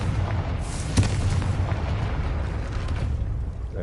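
A fiery blast spell going off in Hogwarts Legacy, a short burst with a thump near one second over a low rumbling game ambience, fairly quiet and without talk.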